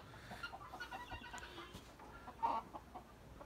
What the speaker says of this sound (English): that right there, Kelso, is about one of the strongest roosters I've ever handled